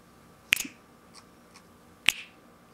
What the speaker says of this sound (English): So I recorded some real snaps